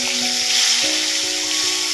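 Koi fish frying in hot mustard oil in a wok, a steady loud sizzle close up with a faint tonal hum beneath, no voices.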